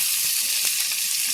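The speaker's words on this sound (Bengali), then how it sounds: "দারুচিনি আর লবঙ্গটা দিয়ে দিলাম। এবার এগুলো ভালো করে একটু ভেজে নেব।" Cinnamon and cloves, added with bay leaves to a pan of cooking onions, sizzle and crackle in hot oil in a short, steady burst with faint stirring.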